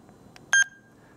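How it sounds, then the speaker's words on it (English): A Harris XG-75 radio running Phoenix CallCheck gives a single short, high-pitched beep, close and clear, after two faint clicks. "you hear the high pitched beep, which means a successful record"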